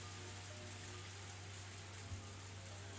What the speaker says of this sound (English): It was still raining hard.